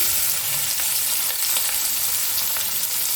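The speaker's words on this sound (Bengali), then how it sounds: "তেলের মধ্যে আমি পেঁয়াজগুলো দিয়ে দিচ্ছি।" Two medium onions sizzle in hot oil left from frying rui fish, a close, loud, unbroken hiss with fine crackles throughout.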